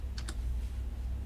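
A couple of quick keystrokes tap on a computer keyboard while a resistor value is entered into PCB design software, close and crisp over a low steady hum.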